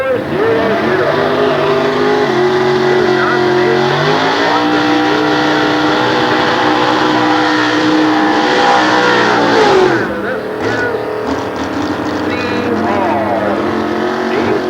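A 545-cubic-inch big block Chevrolet drag race car at a 1993 nostalgia drag meet at Sears Point roars loudly and steadily up through the gears, then drops off sharply near the end as the run winds down.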